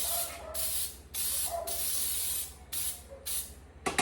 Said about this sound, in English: So I'm gonna go ahead and spray your pan